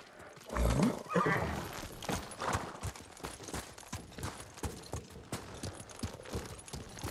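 A horse whinnies loudly near the start in the video game Ghost of Tsushima, followed by a steady run of hoofbeats clattering along with low rumbling in the background.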